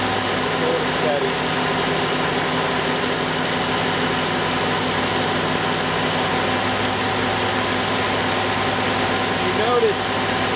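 A car with a Ford EEC-IV ignition system idles with a steady hum while the ignition intermittently misfires. Someone talks over the engine.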